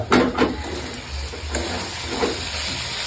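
Potatoes fry in a pan with a steady sizzling hiss, joined by a few louder crackles and stirring scrapes near the start.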